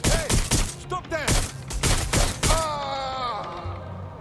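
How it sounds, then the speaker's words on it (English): Gunfire in the video game Watch Dogs Legion: a rapid burst of loud, close shots over the first two and a half seconds, mixed with shouting voices and electronic tones, then tapering into a sustained whine. "Who is shooting?"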